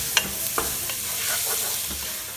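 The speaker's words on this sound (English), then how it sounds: "So I added my onion to this hot oil with some sweet peppers, okay? So saute this for about 2-3 minutes." Onion and sweet peppers sauté in hot oil for a Mexican acorn squash soup, giving a steady close sizzle broken by several sharp scrapes and clicks of stirring. No one speaks.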